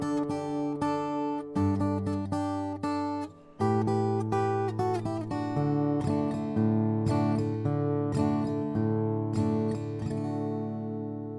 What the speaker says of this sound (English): So, in this riff, we've got a country strum, we have double stops, finger picking.